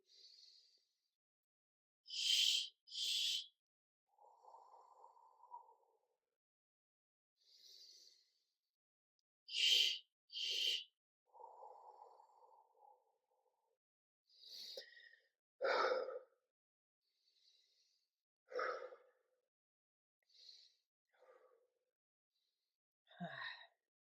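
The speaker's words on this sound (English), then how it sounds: "I'm gonna go into the relaxed breath and then regular breathe, and I'm gonna go into deep breathing" A person demonstrates relaxed breathing and then deep breathing for labor pushing: a close, quiet series of separate inhales and exhales, some soft and airy, others sharp and forceful, with pauses between breaths.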